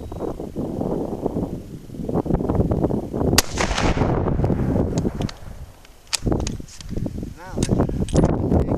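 A rifle fires at a long-range target with elevation dialed up, giving a sharp, loud report near the middle of the clip that rings out over wind and outdoor noise, followed by a second sharper crack later.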